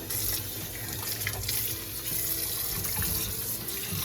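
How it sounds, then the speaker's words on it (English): Water gushes steadily from a tap in an even, continuous splashing stream, loud and close, with no voices. "then you add water"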